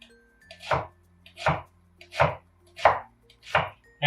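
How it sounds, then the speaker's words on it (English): A knife slices through a small white onion onto a cutting board in six evenly spaced, crisp chops about three quarters of a second apart, close and distinct with quiet gaps between, no voices. "And I'm just gonna cut this into like little slices"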